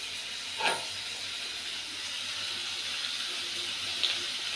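Onions with crushed rock salt frying in a pan, a steady sizzling hiss that holds level throughout, with a brief clink near the start and another faint tap near the end.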